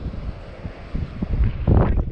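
Wind buffets the microphone in low rumbling gusts, building louder toward the end of the short stretch.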